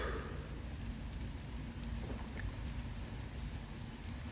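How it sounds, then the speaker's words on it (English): Steady rain falls on a wet morning as a dense, continuous hiss, with no talk and no clear separate drops standing out. "It's a nice rainy Thursday morning."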